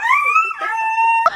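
A dog gives a single close, loud howl that glides upward and holds a wavering tone for about a second, then ends in a short sharp yelp.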